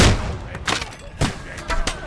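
Gunfire in the video game Kingdom Come Deliverance II: several sharp, loud shots crack in irregular bursts amid battle noise, with voices shouting faintly underneath.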